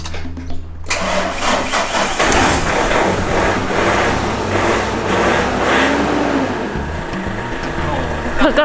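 A Mazda Bongo van left sitting for four years cranks and starts, then its engine revs and idles loudly and continuously for several seconds, with faint voices nearby.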